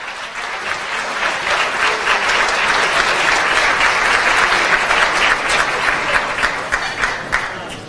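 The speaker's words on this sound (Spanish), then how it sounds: "Un fuerte aplauso." Sustained audience applause at a CADE conference session on citizen participation and democracy, welcoming Dr. Edmundo Jarquín to the stage. Dense, even clapping fills the room from start to finish with no letup.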